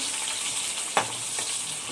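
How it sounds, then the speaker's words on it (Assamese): Onion frying until brown, a close, steady sizzle filling the short moment with one sharp scrape or stir partway through. "পিঁয়াজখন বাদামী কালাৰ কৰি ভাজি ল'ম মই ধুনীয়া কৰি।"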